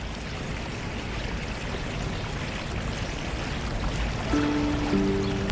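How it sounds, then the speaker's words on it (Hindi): Water flows steadily from a spring beside a pond outdoors, a continuous rushing, pouring wash that holds even throughout, with faint tonal sounds rising near the end. "पानी के चश्मे और तालाब के किनारे"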